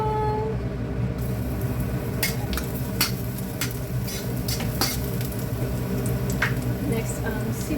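Garlic dropped into hot olive oil in a pan and stirred for a chicken liver dish, with steady low frying noise under sharp scraping and clinks of a utensil against the pan throughout.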